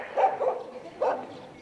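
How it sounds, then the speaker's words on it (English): Dogs at a Tibetan monastery in Gyangtse bark in short bursts, two quick barks then another after a pause, moderately close with no talk. "One thing you will see again and again at these places are dogs"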